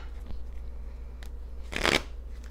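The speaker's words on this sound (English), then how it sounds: "Pause a few shuffles." A quick riffle of tarot cards being shuffled close by during a tarot reading, a short crisp burst after a quiet moment, no talking.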